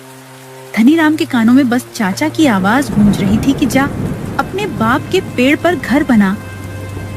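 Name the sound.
heavy rain falling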